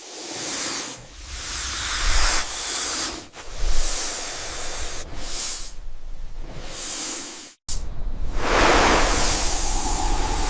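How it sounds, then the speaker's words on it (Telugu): A cartoon snake gives a series of breathy hisses in repeated bursts, some short and some drawn out, loud and close with no talk over them. "పాము బుస వినపడుతుంది."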